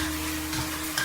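Minced meat sauce with chili bean paste stir-fried in a wok: a brief, steady close sizzle over a low hum, with a small stirring scrape at the end.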